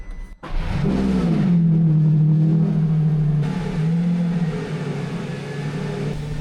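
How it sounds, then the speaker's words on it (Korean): A Lamborghini Revuelto engine fires up with a loud burst and settles into a deep, throbbing idle and rev, close and powerful, holding steady before easing slightly toward the end. "시동 걸렸습니다."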